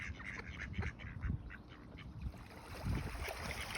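Ducks and ducklings quack in a town park near the city centre, a scatter of low, uneven calls repeating close by against steady outdoor ambience.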